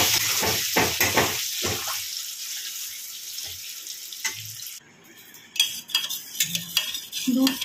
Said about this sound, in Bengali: এই তেলের মধ্যে ডিমগুলো ভেজে নিচ্ছি